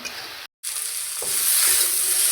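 Lentils sizzle steadily as they are lightly fried in a pan with onion and green chillies, a close, continuous frying hiss that breaks off for a moment and then returns slightly louder.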